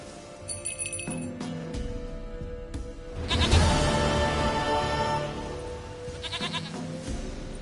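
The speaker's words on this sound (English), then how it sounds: "Goat of mine, dearest," A goat bleats in The Witcher 3, several wavering nasal cries close by, the loudest drawn out in the middle, with faint bell-like clinks at the start.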